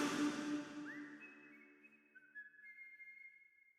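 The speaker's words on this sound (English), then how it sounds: "that's cute that there's the whistling at the end" Thin, high whistled notes close out The Dark Revival trailer, drawn out and fading as a music chord dies away, faint and alone.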